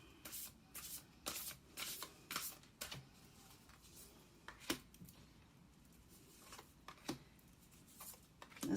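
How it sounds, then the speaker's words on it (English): Tarot cards are shuffled in quick riffling bursts, close and fairly quiet, with short pauses between rounds. "That's why I shuffle in front of you."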